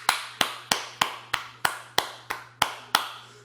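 Ten sharp, evenly spaced claps sound close and alone over a low steady hum, giving a measured round of applause for the wrestling teams Breezango and the Usos.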